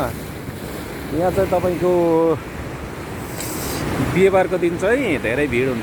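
Strong wind at the Fahaheel seaside in Kuwait blows steadily across the microphone as a loud, rushing roar, with someone talking over it throughout.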